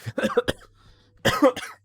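A few sharp coughs in two bursts separated by a brief pause, close and fairly loud, with no talking.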